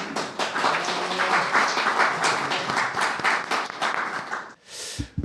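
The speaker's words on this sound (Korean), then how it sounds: "박수로 모시겠습니다." Audience at a 2024 policy forum on countering regional population decline applauds warmly, dense clapping for about four and a half seconds before it tapers off abruptly.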